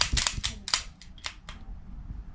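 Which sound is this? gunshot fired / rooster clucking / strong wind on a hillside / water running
gunshot fired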